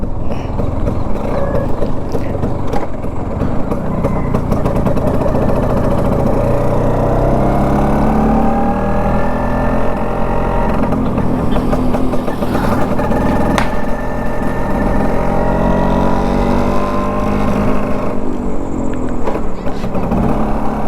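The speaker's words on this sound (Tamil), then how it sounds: "இந்த கியர் ஷிஃப்ட் ஆகிறதும் அந்த கிளச்சு பிடிச்சி போடுறதும் வேறு லெவல் ஒரு எப்பிக்கான ஒரு சவுண்டு கொடுக்குது" Bajaj Super FE motorcycle engine running close and loud throughout, its steady drone rising and falling in pitch as the rider shifts through the gears.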